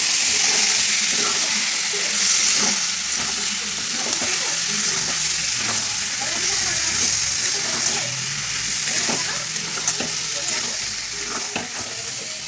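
Kashmiri chillies sauté in a pan with a loud, steady hissing sizzle and occasional stirring scrapes running throughout.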